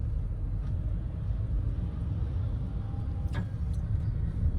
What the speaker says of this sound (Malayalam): ഓക്കെ, ഈ വണ്ടികളെ ഞാൻ ഒന്ന് കയറ്റി കൊടുത്തേ.